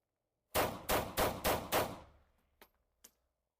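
Five loud, sharp pistol shots from a Beretta 84 in 9mm short (.380) fire in a fast, even string, echoing briefly, followed by two faint, quick clicks.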